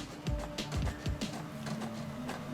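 An HP inkjet printer running on refilled demo cartridges, printing with a few quiet mechanical whirs and carriage sweeps, a faint steady hum underneath.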